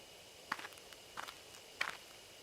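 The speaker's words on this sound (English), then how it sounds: "Hear footsteps again." Three muffled footsteps, evenly spaced and fairly soft, approach through bushes in the horror video game Death Mark, set against a faint steady background.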